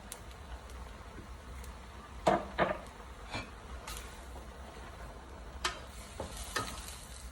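Noodles with white pepper being stirred in a pan for a quick Chinese noodle dish: quiet scraping and sizzle, with a few sharper utensil clacks scattered through.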